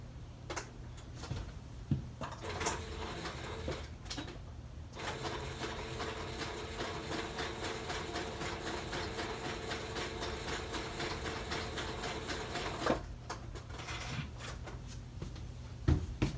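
A sewing machine stitches fabric in a steady close-up mechanical whir with rapid ticking, running continuously for several seconds between brief pauses and clicks at the start and end.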